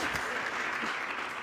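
Dense, steady applause from an audience, a continuous wash of clapping hands filling the room.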